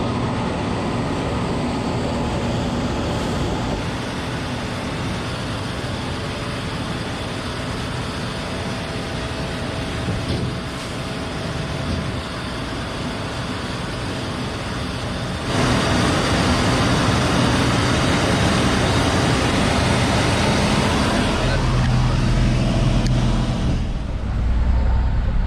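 A JCB backhoe shoves a car up a narrow, muddy mountain road in Arunachal Pradesh, its heavy engine giving a loud, steady roar that swells slightly partway through and continues without a break.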